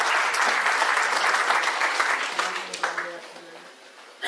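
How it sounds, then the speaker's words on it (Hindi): Hall audience applauding to welcome a guest at a public event, sustained clapping from a crowd that fades gradually over a few seconds, with brief voices underneath. "जरा तालियां बजाकर उनका भी स्वागत करें"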